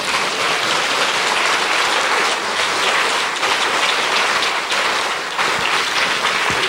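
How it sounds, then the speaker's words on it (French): Sustained audience applause at a French tribute evening honouring Boris Vian, loud and dense with steady clapping throughout, no voices over it. "Donc je vous demande de l'applaudir à nouveau."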